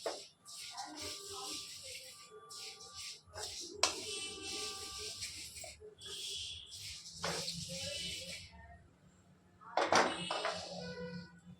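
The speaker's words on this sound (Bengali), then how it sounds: "এবার একটা পাত্রে তিলগুলো ঢেলে রাখবো।" Stirred sesame seeds are poured into a bowl in a home kitchen, making a dry, hissing, granular rattle in repeated bursts over several seconds, ending in a louder clatter near the close.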